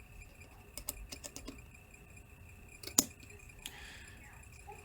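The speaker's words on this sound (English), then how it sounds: "So let me go through and make my cuts." Scissors cut as a person makes trimming cuts: a few quiet, quick snips close by, one sharper clip standing out, in an otherwise hushed room.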